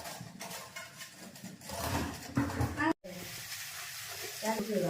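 Oil sizzles and crackles steadily in a pan as tempering is made for khaman, a continuous frying hiss with people talking over it.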